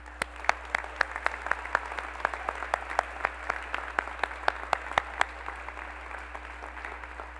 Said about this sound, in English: give your brothers, parents, sisters, grandparents, aunts, and uncles a big round of applause